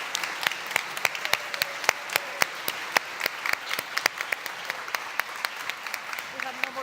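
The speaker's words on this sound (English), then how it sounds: "let's give a round of applause" An audience at a closing plenary session applauds, with sharp individual claps standing out over a thinner spread of clapping that keeps going throughout.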